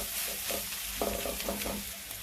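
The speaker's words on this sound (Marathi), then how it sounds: "थोडंसं तेल टाकू आपण, म्हणजे मसाला आपल्या तेलात छान परतले जाते।" Spice masala sautés in a little oil in a pan while being stirred for a potato patty filling, with a steady close sizzle and a few scraping stirs over about two seconds.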